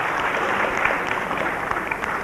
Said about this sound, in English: They deserve a very, very good hand.